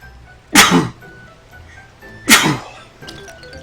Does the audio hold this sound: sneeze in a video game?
yes